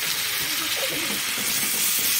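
Garlic paste frying with browned onions in a hot pan gives a steady, close sizzling hiss that fills the whole moment, with a faint murmur of movement underneath.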